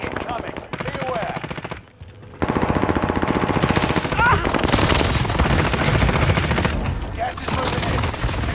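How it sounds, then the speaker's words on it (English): An allied precision airstrike pounds the area in a video game, loud dense rapid blasts and rumbling detonations rolling almost continuously, with players' voices talking over the barrage. "Allied precision airstrike incoming"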